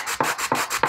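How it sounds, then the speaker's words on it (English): Wood being sanded for a pyrography pen tip holder gives three rhythmic rasping strokes, each a broad scratchy swipe, close and fairly loud with no talk. "your sander's gonna get a workout"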